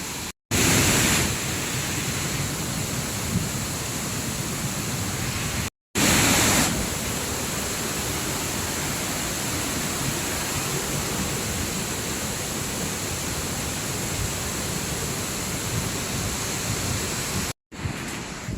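Taytay Falls after Typhoon Aghon, a dense, steady roar of rushing water that fills the clip with constant loudness, interrupted only by two brief dropouts, with no talk.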